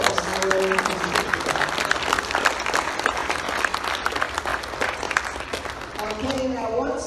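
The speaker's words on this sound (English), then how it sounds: "let's have a round of applause" A large audience at a youth forum during an amateur radio convention breaks into sustained applause, a dense loud wash of clapping that carries on evenly for about six seconds before tapering off as a voice comes back in.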